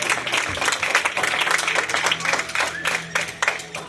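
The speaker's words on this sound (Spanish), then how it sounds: "Denle fuerte ese aplauso al Señor." A church congregation at a Thursday service claps loudly and steadily, with distinct hand claps in a driving rhythm and faint voices underneath.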